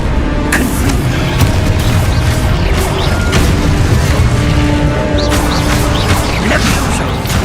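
A Confringo spell explosion in the game Hogwarts Legacy: a dense, continuous roar of blasts and crackling magical impacts, loud and unbroken for several seconds, with no clear pauses.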